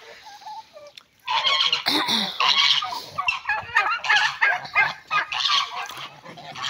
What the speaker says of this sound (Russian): Мой племенной черный индюк.